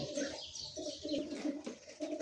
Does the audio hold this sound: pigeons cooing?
yes